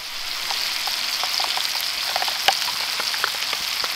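Food simmers in a pan over a Soto camp stove at a wild island campsite, a steady soft hiss and crackle with scattered small pops throughout, no voices.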